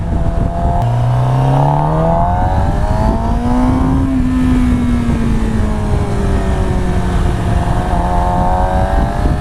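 A 2017 Suzuki GSX-R 750 sports motorcycle engine revs steadily while riding, its pitch rising and falling through gear changes, loud and close under continuous wind rush, with no talking.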